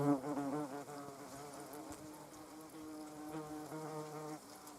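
A wasp buzzing near a Venus flytrap, a steady close-up droning hum whose pitch wavers slightly as it hovers, faint and alone.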